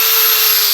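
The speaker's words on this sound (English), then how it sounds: "Drill at full" A power drill whines loudly at full speed, a steady high-pitched motor hum held for under a second.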